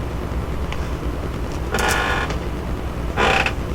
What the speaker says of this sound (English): I think my chair is going to break on me.